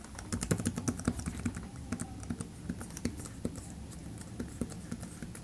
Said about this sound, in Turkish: Tuş basın his, e, seslerini size bir dinleteyim.